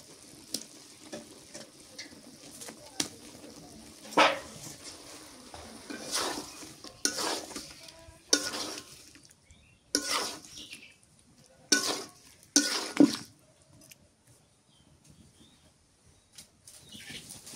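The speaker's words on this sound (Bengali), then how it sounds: "টমেটো আর মাছ কষানো হয়ে গেছে।" Tomato and hilsa fish are stirred and fried in a pan, with soft sizzling under intermittent scraping spoon strokes and clanks against the pot, fairly quiet with regular bursts.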